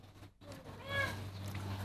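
A house cat gives one clear, drawn-out meow at moderate distance, rising then falling in pitch, over a quiet room hum after a brief pause.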